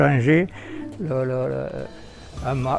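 Pigeons cooing close by in low, throaty, rolling calls, repeated in several phrases with short pauses between them.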